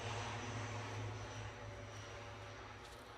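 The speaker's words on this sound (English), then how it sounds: "And you're watching Aer Lingus off to Dublin." Aer Lingus airliner taking off from Edinburgh Airport bound for Dublin, a steady distant engine roar that slowly fades, heard alone.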